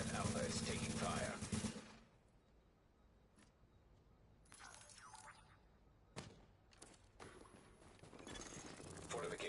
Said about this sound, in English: The fortification at Alpha is taking fire